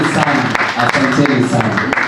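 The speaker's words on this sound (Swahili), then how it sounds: "Makofi jamani." Audience applause at a Kalenjin cultural storytelling launch event in Baringo, Kenya: dense, steady clapping from a crowd that fills the whole stretch, with voices mixed in.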